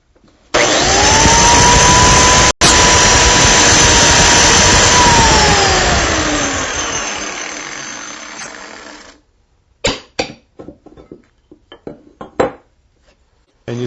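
Biscuit joiner spinning up and plunging into clamped 3/4 inch wood stock: a loud high whine with a cutting surge that winds down over several seconds, followed by sharp clicks and clunks of handling.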